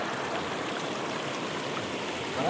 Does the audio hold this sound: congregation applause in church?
no